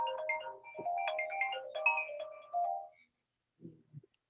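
A mobile phone ringtone plays loudly during a committee meeting, a melodic electronic tune of repeating notes lasting about three seconds, then stopping, followed by a couple of faint short knocks.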